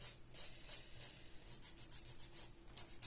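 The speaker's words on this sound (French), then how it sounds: "on lime que le bout pour le mettre à la taille que vous voulez" A nail file rasps across the tip of a press-on fake nail in quick, rhythmic strokes, faint and close with no voices.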